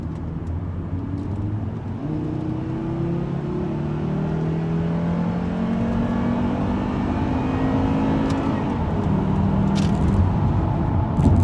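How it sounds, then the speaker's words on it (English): A Volvo V70 five-cylinder engine revving and accelerating with a rising, raspy zing, steady and fairly close, with gear changes partway through. "It's got a nice 5-cylinder zing to it."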